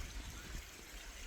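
River water flows at night with a faint, steady rushing hiss that stays even throughout, heard from a short distance outdoors with no voices over it.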